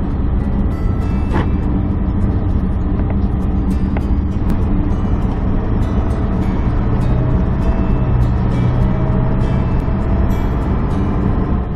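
A car driving home through hot Arizona weather, its steady engine and road rumble filling the cabin at an even, loud level throughout, with faint clicks and rattles now and then and no talking.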